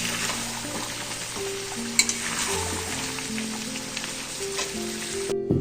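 Spicy chicken with potatoes braises and fries in a pan, giving a soft, steady sizzle and bubbling close by with a couple of faint clinks, heard alone.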